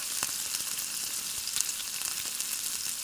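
Curd (yogurt) going into sizzling biryani masala, giving a steady, moderately loud frying hiss with a few faint clicks throughout, no talking.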